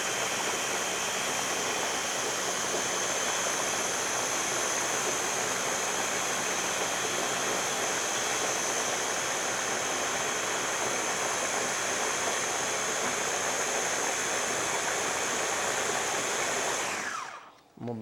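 A blender purees cooked sweet potatoes into baby food with a loud, steady, close whirring roar that runs unbroken for about seventeen seconds, then cuts off abruptly, with no talking.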